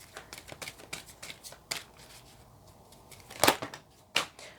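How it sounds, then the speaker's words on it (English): Cards are riffled and shuffled in quick crisp bursts close to the microphone, with a couple of sharper louder riffles near the end. "This deck has been giving me trouble shuffling this week as well."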